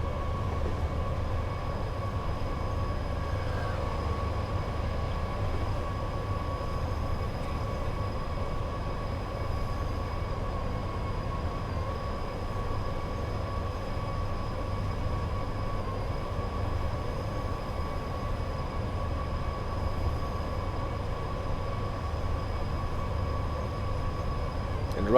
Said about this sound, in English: So, we're limited to 80 here, the driver told Ducky, because we're going right at this junction.